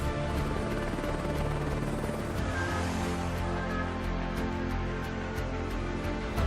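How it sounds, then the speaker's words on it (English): Helicopter in a video game trailer, shown as cargo transport, with a steady, loud rotor-and-engine roar filling the whole stretch alongside a dense wash of trailer sound. "Helicopter cargo transport."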